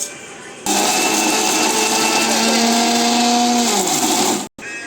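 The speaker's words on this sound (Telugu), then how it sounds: "అది మిక్సీ పట్టుకోవాలి." An electric mixer grinder whirs loudly, grinding roasted cumin seeds and chillies in a steady high-pitched drone that winds down near the end before a brief restart.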